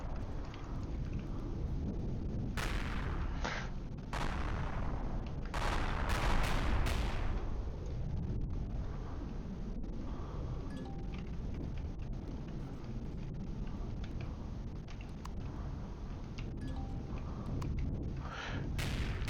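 Heavy weapons fire in a video game pounds a ship's turrets: a continuous rumbling barrage with sharper blasts clustered early on and a dense, steady roar throughout, with no talk.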